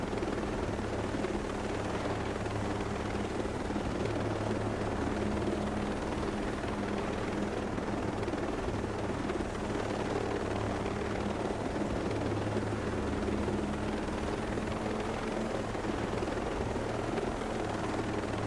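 Continuous helicopter rotor thump and turbine whine in the video game Ghost Recon Breakpoint, steady and close for the whole stretch, with no talking.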